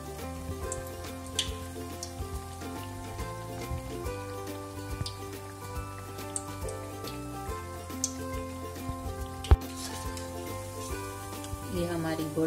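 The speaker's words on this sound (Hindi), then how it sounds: "इसे हमें गोल्डन ब्राउन होने तक डीप फ्राई करना है" Chana vadi deep-frying in hot oil to golden brown, a steady crackling sizzle of scattered pops beneath a continuous musical background, with no speech.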